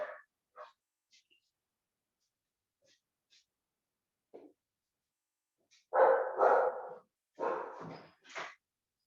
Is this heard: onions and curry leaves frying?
no